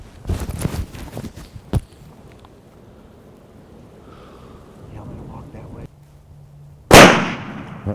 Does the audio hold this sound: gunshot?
yes